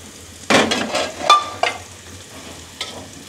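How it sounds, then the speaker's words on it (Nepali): Onion, garlic and chunks of mutton head meat are stirred in a frying pan for a Thakali-style curry: a low sizzle broken by several close scraping strokes of a spoon against the pan. "मेरो आफ्नो लोकल स्टाइलले यो प्याज राख्यो लसुन पनि त्यही भुट्यो"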